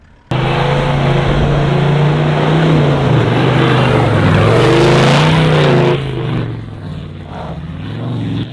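A white Toyota Hilux 4x4 engine roars at high revs while climbing a soft sand hill on a beach, loud and sustained for several seconds with a steady droning tone, then easing off and fading toward the end.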